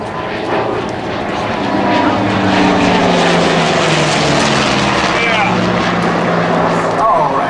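An F4U Corsair propeller aircraft at an airshow gives a loud, continuous engine roar with steady low harmonics. People talk over it at times.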